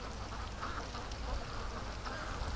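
Ducks coming home toward the yard at dusk, quacking in the distance over steady wind noise, faint and continuous with no voices.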